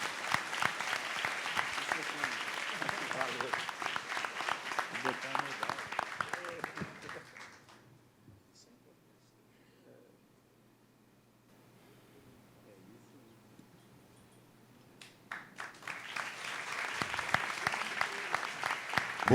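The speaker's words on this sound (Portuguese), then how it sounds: "Uma salva de palmas para o Pablo." A crowd applauds loudly at a swearing-in ceremony, then the clapping dies away to near silence before a second burst of applause rises again.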